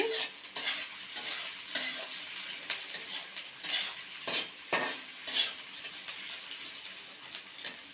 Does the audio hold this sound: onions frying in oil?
yes